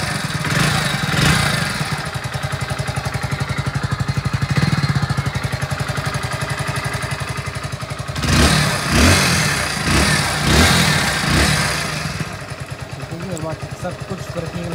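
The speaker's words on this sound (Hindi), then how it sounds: "तो सुन लो भैया बाइक की साउंड एक बार।" Hero Splendor Plus motorcycle engine running at a close, steady idle with a dense rapid putter, rising in a few short blips of throttle in the second half, with someone speaking over it.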